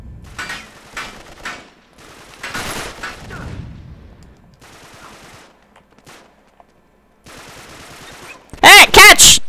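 Rapid bursts of automatic gunfire from the video game Uncharted 3, loud and close, in several volleys separated by short pauses, ending in a sharp, very loud burst.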